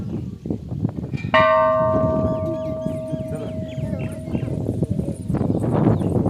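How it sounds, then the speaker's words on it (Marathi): A single loud temple bell strike rings out and hums for several seconds, fading slowly beneath people talking and background chatter. "हा घंटा"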